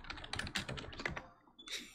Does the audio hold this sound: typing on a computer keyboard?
yes